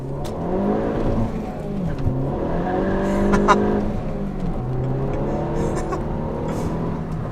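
A Stage 3 turbocharged Ford Focus ST hatchback revs hard and climbs through the gears, loud and close, with a whirring, straining tone as the tires spin.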